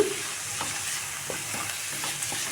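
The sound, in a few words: masala and carrot being fried and stirred in pan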